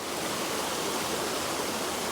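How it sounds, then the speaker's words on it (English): A waterfall in an outdoor landscape setting pours steadily, a dense, unbroken roar of rushing water heard up close with no voices. "So there's a second waterfall up on the top there."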